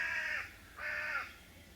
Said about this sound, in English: The crow's having a fit for some reason